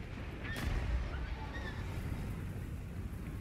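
Cannon salvo firing in the fantasy strategy game Total War Warhammer 2, a booming burst that fades into a sustained low rumble and hiss over a few seconds, with no talk.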